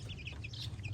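Chickens raised by a villager in a rural Lao-Thai farmyard cluck and chirp in short repeated calls over a steady low hum, fairly quiet and without talk.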